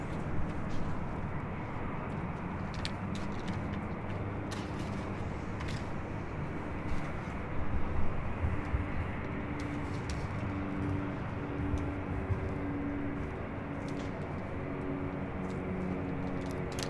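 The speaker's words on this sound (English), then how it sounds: "This is Avianca 733 taking off to Guatemala City on an A320 Neo." An Avianca Airbus A320neo taking off at LAX, a steady broadband engine roar held at a distance, with faint birds and scattered small clicks nearby.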